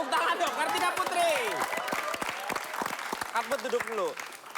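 Studio audience applause at an Indonesian televised stand-up comedy show, a dense patter of clapping mixed with crowd chatter and laughter, with voices talking over it throughout.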